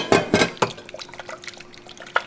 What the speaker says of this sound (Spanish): Vamos a ponerle un poquitito de agua, de la misma agua en la que cocimos el tomatillo